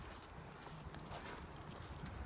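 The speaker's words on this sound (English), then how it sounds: "Riding a horse" A horse being ridden outdoors clip-clops along at an even pace, the hoofbeats soft and somewhat distant under faint background noise.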